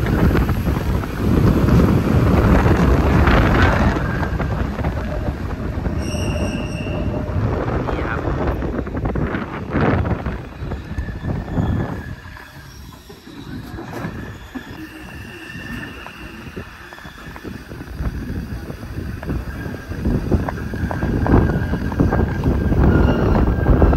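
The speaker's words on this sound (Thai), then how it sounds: "เสียงน้ำดังสู้ซ่านี่ครับ เสียงร้องของราง" Mountain train running on rails beside a rushing stream between Interlaken Ost and Grindelwald, Switzerland: a loud, steady rushing roar with thin high rail squeals, easing briefly midway before swelling again.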